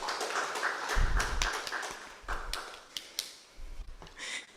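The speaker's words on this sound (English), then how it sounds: "So please give them a round of applause." Audience applause at an access-to-knowledge and right-to-research workshop session, scattered claps rising into a dense burst around the first second, then thinning to irregular individual claps that fade and return near the end.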